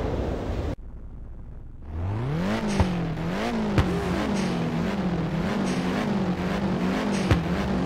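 Race car engines rev and whine in Ridge Racer on the Midtown Expressway before the start, a steady, loud pitch that climbs and wavers up and down. Sharp clicks punctuate the drone, and a quiet lull comes first.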